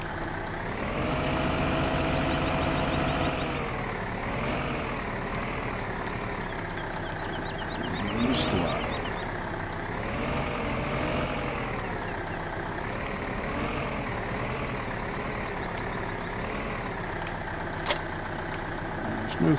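A tractor engine in Farming Simulator 15 runs steadily, a droning rumble that rises and falls as it revs. Someone talks over it throughout, with a few sharp clicks along the way.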